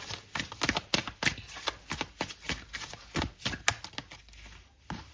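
Tarot cards being shuffled and drawn, a quick run of crisp, close papery flicks and riffles in an uneven rhythm, fairly quiet with no talking.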